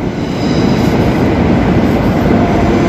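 A Moscow metro train rumbles loud and close as it pulls into the station, a steady dense roar of wheels and rail noise with no speech over it.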